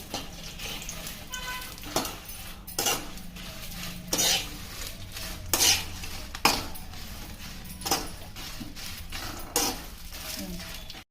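Dried red chillies fry in a little oil in a pan while a spoon stirs and scrapes them in repeated clattering strokes, over a soft background sizzle.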